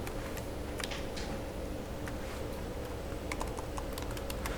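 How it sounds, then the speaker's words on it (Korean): Computer mouse buttons click in a quiet room, several sharp light ticks spread out over a few seconds against low background hiss. "빈 공간을 제가 클릭했습니다. 클릭이에요."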